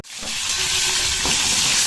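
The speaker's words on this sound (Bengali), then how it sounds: "এদিকে এখন ফুলকপি ভাজা চলছে" Cauliflower frying in oil, a loud close hiss and sizzle that starts suddenly and holds steady, with faint bubbling crackle underneath.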